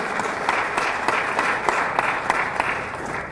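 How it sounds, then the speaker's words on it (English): Audience at a birthday celebration event applauds in a sustained, even wash of clapping from many hands, moderately loud and continuing throughout without a break. "Can you give them a big round of applause?"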